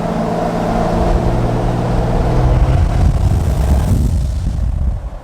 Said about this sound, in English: a giant whooshing sound that's not like a turbo spooling